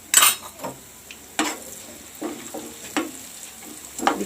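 Cumin and turmeric dropped into hot oil in a pan, with soft sizzling and several light clinks and scrapes of a spoon against the pan, close up and without talk.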